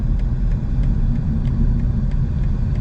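A BMW M850i xDrive Gran Coupe cruising in Eco Pro mode gives a steady, low road rumble and muted drivetrain hum from inside the cabin, with faint periodic ticks and no voices.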